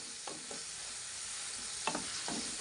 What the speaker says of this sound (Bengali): চিকেন কিমাগুলো ভাজার সময় আমরা এর মধ্যে দিয়ে দেব হাফ চামচ লবণ, দিয়ে চিকেনগুলোকে খুব ভালো করে এভাবে ভেজে নেব।